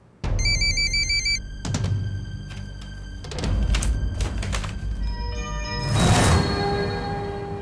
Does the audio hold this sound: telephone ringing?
yes